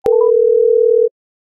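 A single steady electronic beep tone, about a second long, clear and close, sounds on a phone call to a switched-off phone, then stops into silence.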